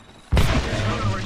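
A grenade bursts in Apex Legends with a sudden loud boom that rolls on into a rumbling, crackling tail, while a voice can be heard faintly underneath.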